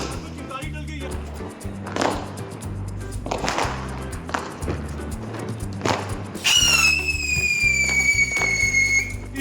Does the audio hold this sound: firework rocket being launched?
yes